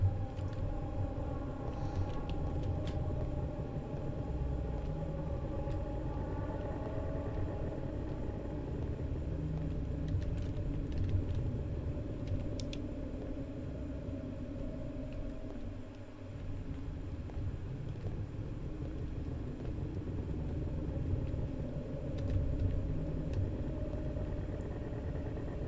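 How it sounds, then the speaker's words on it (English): A low, continuous engine-like rumble fills a haunted school guard horror video game, droning steadily for nearly half a minute with faint ticks and slight swells, close and dominant, with no voices. "Why does it sound like someone's revving an engine in my ear?"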